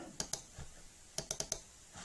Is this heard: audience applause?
no